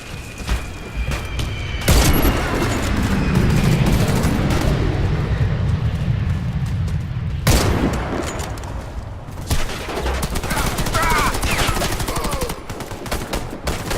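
Gunfire from the online shooter game Warface while playing as a sniper, with loud booming shots and rolling blasts at about 2 and 7.5 seconds over continuous battle noise, and no voices.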